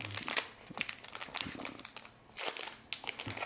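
Plastic packaging bag of a leather book band kit being torn open by hand: close crinkling, crackling and ripping bursts in an irregular rhythm, moderately quiet, with no talking.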